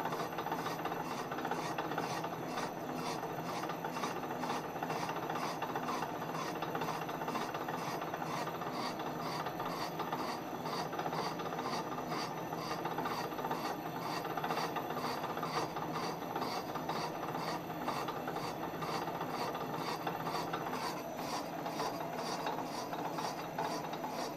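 A metal lathe takes a light boring cut inside a Suzuki TC90 motorcycle cylinder, giving a steady, even rasping and mechanical whir that runs unbroken at moderate volume with no voices.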